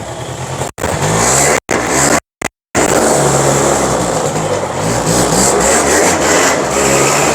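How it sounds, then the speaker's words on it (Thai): Small Eton 90cc automatic ATV engine runs close and loud with a steady buzzing drone and shifting revs, cut by a few abrupt brief gaps, with no talking. "เครื่อง 90 cc นะครับ"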